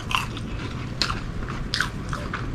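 Crunchy bites into a grill-pan-toasted grilled cheese sandwich with garlic butter, three or four crisp bread crunches close up, followed by softer chewing.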